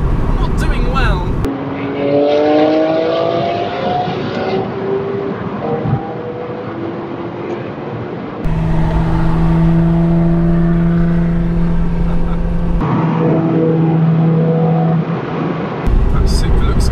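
JDM cars in a convoy, including a GT86, drive past one after another with rising and falling engine tones, separate passes roughly every few seconds, fairly close and loud throughout.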